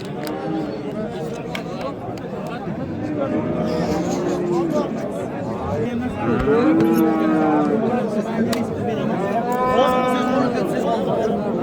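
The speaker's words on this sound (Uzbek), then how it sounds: "Semiz sigiramiz." A cow moos at a busy livestock market, several drawn-out lowing calls rising over constant crowd chatter and bargaining voices.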